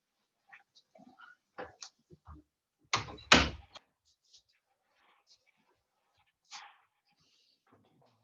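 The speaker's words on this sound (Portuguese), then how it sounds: "Deixa eu fechar a porta aqui" A door is pulled shut indoors with a loud double thud and latch click in the middle, surrounded by faint handling noises and quiet movement.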